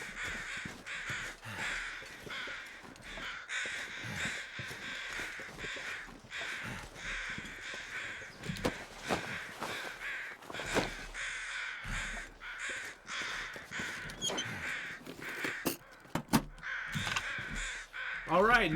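Loud crows caw repeatedly and close by in the snowy wilderness of The Long Dark, a survival game, with a player talking now and then over the harsh, ragged calls.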